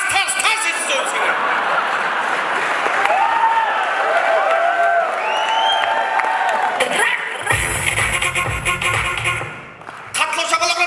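Loud, sustained audience applause fills a hall at a KVN comedy contest, mixed with cheering, whoops and crowd roar, dipping briefly near the end before picking up again.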